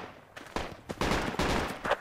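Gunfire in the military shooter Project Reality: bursts of rapid shots crackle in quick clusters, some sharp and close, others duller and more distant, with no talk over them.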